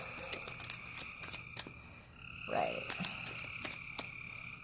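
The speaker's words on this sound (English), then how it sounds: "my frogs are really loud tonight" A loud night chorus of frogs croaks and trills steadily outdoors, close and continuous, with sharp repeated clicks and a brief louder burst partway through, while a single word is spoken quietly.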